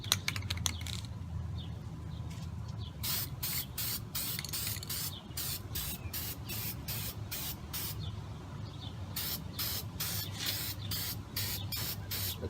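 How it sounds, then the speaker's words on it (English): Repeated short bursts of a spray paint can, hissing in quick regular pulses close up over a low steady background hum, with no talking. "Just get what you can with the spray paint so you have less to do later."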